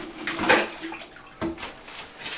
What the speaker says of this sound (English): You just take this in a bucket of water, and you just squeeze the trigger,